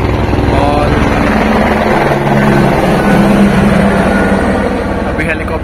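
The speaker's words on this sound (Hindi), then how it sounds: "अभी हेलीकॉप्टर से जा रहे हैं तो उसकी साउंड आ रही थी।" A helicopter flies near a mountain pilgrimage camp on the Kedarnath route, its steady loud engine and rotor drone filling the whole stretch, with a voice talking over it.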